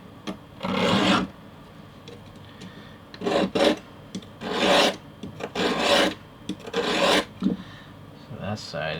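A brass keychain pill capsule is rasped against the 400-grit side of a file in a series of close, rough strokes, about seven separate bursts with short pauses between them and no voices.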